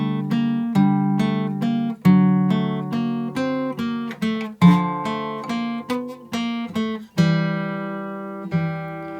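Guitar playing the instrumental interlude of a song from Arcane, a clean picked pattern of ringing notes over a repeating low pulse, plucks recurring at a steady pace, close and unaccompanied by speech.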